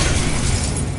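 A fiery spell blast from the Hogwarts Legacy video game, a dense roaring burst that holds loud and steady through its whole second, with no voice.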